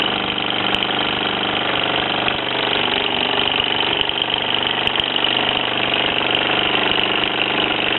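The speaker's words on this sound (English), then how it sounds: "You can just hear the hammer in the background." A small toy steam hammer driven by a Mamod SE2 steam engine running steadily, a continuous rapid chugging and knocking with an even rhythm, no voices over it.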